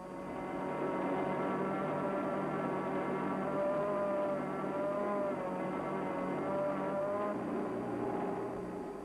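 A 1974 Land Rover climbs a slope on a longer, faster run, its engine droning loud and steady throughout with a rising, wavering whine as it labours uphill.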